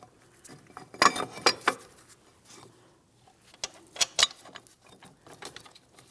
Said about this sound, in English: The caliper is going to slide over the brake rotor